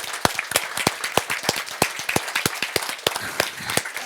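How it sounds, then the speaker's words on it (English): A live audience at an annual meeting applauds a panel of speakers with steady, crisp clapping that fills the room for the whole stretch, sharp individual claps standing out in a lively burst of applause. "why don't we give this panel and all these good speakers"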